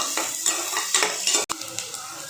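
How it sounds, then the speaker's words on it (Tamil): Two large sliced onions are stirred in a pan, with a metal spoon scraping and clinking against the pan in quick bursts under a soft, steady sizzle. "போட்டு நல்லா வதக்கி விட்டுக்கோங்க"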